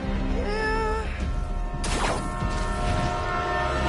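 Runaway elevated commuter train with a blaring horn, a loud sustained wail from the start, then a sharp crashing burst midway over constant rumbling rail noise.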